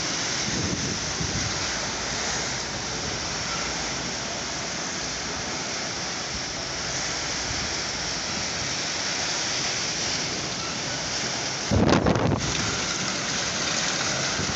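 Strong storm wind roars steadily in Gazipur as a dense, continuous rush with no lulls, briefly swelling into a harsher gust near the end.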